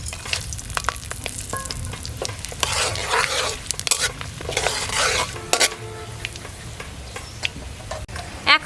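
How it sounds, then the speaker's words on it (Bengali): Cumin and whole garam masala crackle in hot mustard oil for a village-style duck curry, a close sizzle broken by bursts of spluttering and spoon-stirring scrapes with light metallic clinks. "জিরে আর গোটা গরম মশলার ফোড়ন।"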